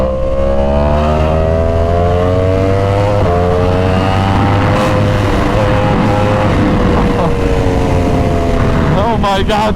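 A Yamaha R1 sport motorcycle revs hard and climbs through the gears, its engine note rising steadily, dropping briefly at each shift, then pulling up again, loud and close, with wind noise around it.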